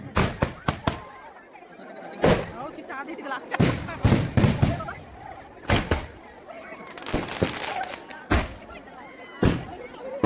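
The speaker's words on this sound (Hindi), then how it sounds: "आकर्षक आतिशबाजी दसरा महोत्सव समिति ग्राम छात्रों की ओर से आतिशबाजी आप देख रहे हैं।" Fireworks at a Dussehra festival in Araud, Kanker, bursting in a loose series of sharp, loud bangs and crackles, some clustered together, over a murmuring crowd and faint voices.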